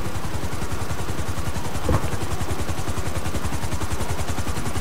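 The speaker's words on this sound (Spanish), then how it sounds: "Otro helicóptero privado." A private helicopter in GTA Online gives a steady, rapid rotor chop with a loud, constant engine whine, heard alone from close by and without a break.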